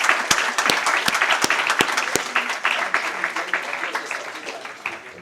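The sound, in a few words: audience applause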